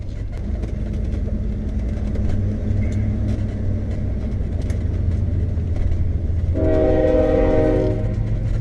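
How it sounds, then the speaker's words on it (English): A train rumbles steadily past nearby, its horn sounding a sustained blast toward the end over the continuous rolling roar. "We just had a train go by"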